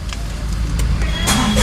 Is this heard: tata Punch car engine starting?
yes